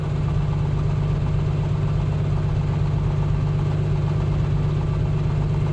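A Piper Comanche aircraft engine idles at low revs before its run-up, a steady, loud, low rumbling drone that continues without change throughout, with no talk over it.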